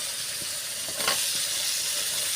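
Sliced ridge gourd hits a hot pan of spice masala, and a broad steady sizzle and steam hiss spreads out, swelling slightly around the one-second mark and then holding evenly.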